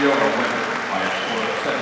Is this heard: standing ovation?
yes